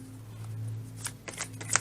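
A deck of tarot cards being shuffled close by, soft riffling and sliding flicks in a few quick bursts over a faint low hum.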